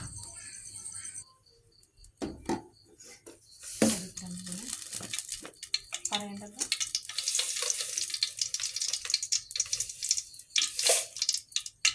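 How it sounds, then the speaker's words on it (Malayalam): Coconut oil poured into a hot pan crackles into a steady, busy sizzle that builds and holds, with earlier splashing of water and someone speaking over parts of it, up close. "അപ്പോൾ നമ്മുടെ പാന് ചൂടായിട്ടുണ്ട് നമുക്കിനി ആവശ്യത്തിന് വെളിച്ചെണ്ണ ഒഴിച്ചു കൊടുക്കാം"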